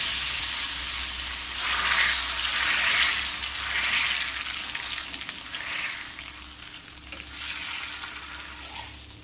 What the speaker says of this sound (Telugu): పప్పుకు పోపు పెట్టేసుకుంటే ఎంత బాగా అనిపిస్తుందో కదా